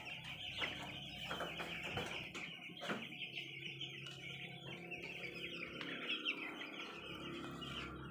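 Nine-day-old broiler chicks peep and chirp continuously in a brooder house, a dense, steady chorus of high, thin calls with a few louder cheeps rising above the crowd.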